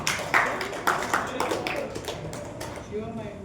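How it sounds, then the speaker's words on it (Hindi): A group of people clap their hands during an electrical power cables class, with several sharp bursts of applause at irregular intervals fading out over a few seconds amid room noise. "ताली बजाओ सबके लिए।"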